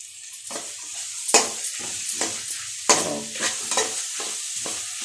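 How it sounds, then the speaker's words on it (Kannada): Food frying in a pan during home cooking with salt and spinach (palak) added, crackling and sizzling steadily with repeated stirring scrapes, close and moderately loud, no talking. "ಈಗ ಒಂದು ಸ್ವಲ್ಪ ಹೊತ್ತು ಫ್ರೈ ಮಾಡ್ಕೊಳ್ತೀವಿ ಸ್ಲಿಮ್ಮಲ್ಲಿ ಫ್ರೈ ಆಗ್ತಾ ಇದೆ"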